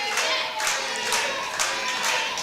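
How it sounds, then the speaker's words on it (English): Wrestling crowd at a Christmas indoor show cheering and clapping, a dense wash of applause and shouting that swells and dips across the whole moment. "You got fans cheering."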